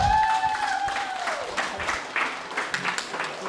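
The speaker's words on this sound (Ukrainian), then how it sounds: "Прошу оплески." Guests at a Ukrainian wedding applaud, giving several seconds of steady, moderately loud clapping from a crowd, with a short sustained musical tone sounding briefly at the start.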